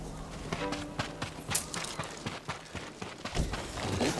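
Horse hooves clip-clop in the video game Ghost of Tsushima, a steady run of close, evenly spaced thuds lasting several seconds amid other game sounds.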